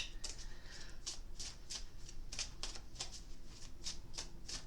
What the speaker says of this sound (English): I'm going to pull a couple of the romance angel cards